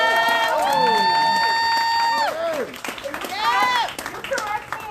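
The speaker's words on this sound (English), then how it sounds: "Another applause for all the young people." A crowd at an outdoor rally opposing General Iron claps and cheers for the young people on stage, loud and sustained under a strong tonal sound with sweeping pitch, easing off midway and rising again.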